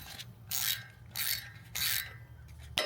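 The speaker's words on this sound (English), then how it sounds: "get a 12mm bolt and we're going to press out the rotor from its location." A 12mm bolt is turned to press a rust-seized rotor off the hub of a Lexus GX460, giving three separate bursts of ratcheting, clicking mechanism noise with quiet pauses between and a sharp knock at the end.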